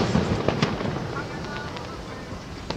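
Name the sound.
Fourth of July fireworks exploding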